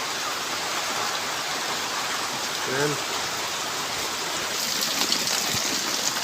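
Steady heavy rain hisses throughout, dense and unbroken, with a short spoken word briefly rising above the downpour.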